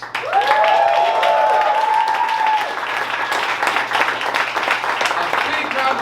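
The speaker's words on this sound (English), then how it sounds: "big round of applause to the comics." Comedy-show crowd applauds the comics, a broad wash of clapping with a host's voice speaking over it at the start.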